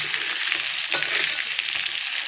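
Stuffed eggs fry in masala in a pan and are turned over. A close, continuous sizzle carries a brief scrape as the spatula moves them.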